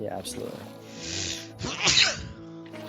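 A single sharp sneeze, close and loud, bursts out in the middle of relaxed conversation, with people talking before and after it.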